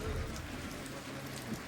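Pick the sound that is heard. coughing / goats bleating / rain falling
rain falling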